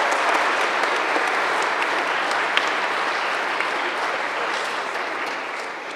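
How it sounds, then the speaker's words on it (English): Sustained applause from an audience at a school spring concert in a theatre, steady dense clapping throughout that fades slightly toward the end, with no talk over it. "can we give them one more round of applause?"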